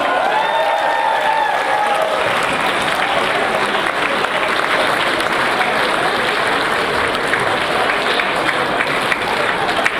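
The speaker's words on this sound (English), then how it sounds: "I want a big round of applause" Audience at a charity dinner breaks into sustained applause, dense hand-clapping filling the room steadily for the whole stretch, with a few faint voices rising within it.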